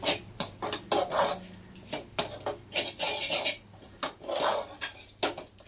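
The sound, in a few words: mixing moringa leaf fry with peanut-garlic powder in pan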